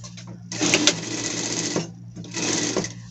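A sewing machine stitches a seam in two close, fast bursts of rapid mechanical whirring with a short pause between them.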